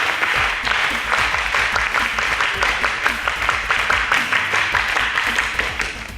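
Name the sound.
audience applause for the school teams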